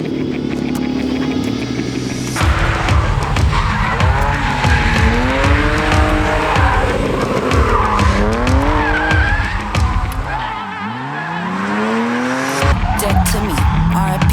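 A drift car doing donuts on a clandestine urbex track, its engine revving hard and wavering while tires squeal in long rising and falling arcs, loud and close with music playing underneath.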